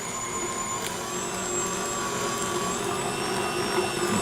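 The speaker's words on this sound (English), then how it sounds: "So our meat is all ground up into sausage." A meat grinder runs steadily, grinding the last of the meat into sausage with a constant whirring motor drone that stays loud and unbroken throughout.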